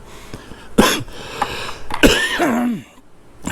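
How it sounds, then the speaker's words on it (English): A smoker's cough: a few harsh coughing bursts close by, then a rasping, wheezy throat sound trailing off, with a shorter cough at the end. "Smoker's cough."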